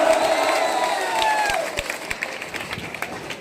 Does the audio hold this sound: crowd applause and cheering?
yes